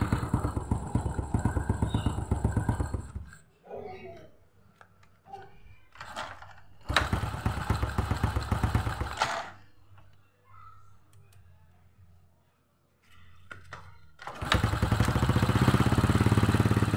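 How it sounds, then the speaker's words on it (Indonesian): An older Honda Supra X motorcycle with a weakening ignition coil idles after a kick start with a rapid, steady chug, cutting out and restarting in several loud bursts separated by quieter gaps. "Saya gunakan kickstarter. Motor terasa enteng ya untuk hidup awalnya."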